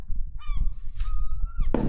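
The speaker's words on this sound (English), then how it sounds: "Maybe we'll have a seagull go by." A seagull sound effect played during a livestream: a few honking, gull-like calls in quick succession, fairly loud and alone over a low background rumble, ending in a brighter burst.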